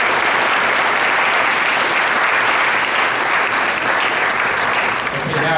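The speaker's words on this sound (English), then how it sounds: "Give them a big round of applause." Loud, dense applause from an audience at a school holiday celebration, steady and sustained for several seconds, with a voice starting up faintly near the end.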